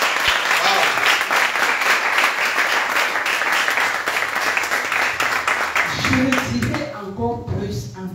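A church congregation at a Douala mission service applauds loudly, a dense burst of clapping that thins out toward the end as a voice begins speaking.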